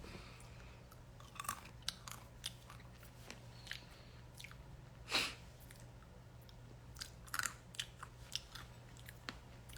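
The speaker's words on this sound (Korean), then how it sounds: "땅콩 맛있다. 요거랑 약간 양념 묻어있는 거랑" Roasted peanuts, some lightly seasoned, are chewed close to the microphone: faint, irregular crunches and soft mouth sounds over a low room hum, with no speech.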